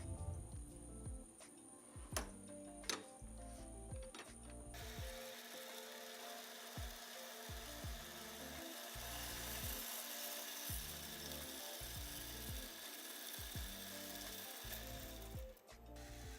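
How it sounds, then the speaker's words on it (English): A horizontal bandsaw runs through metal stock with a steady mechanical drone and grinding hum, broken early by a few sharp ratcheting clicks and later by brief dips in the motor noise. "Once the blade cuts through the stock, the end of the saw arm will disengage the power."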